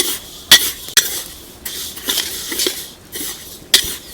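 Sesame seeds roast in a pan while a spoon stirs them, with sharp metallic knocks against the pan and rustling scrapes coming in irregular bursts, close and fairly loud.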